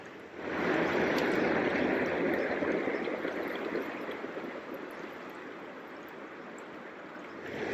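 A creek in North Cascades National Park rushes steadily nearby, a broad continuous wash of flowing water that swells in quickly and then eases slightly, with no voices.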